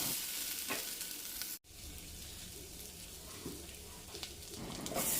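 Crushed ginger and garlic sizzle and fry steadily in a hot pan while being stirred, with scraping stir strokes over a continuous crackle, heard close and alone with no talking.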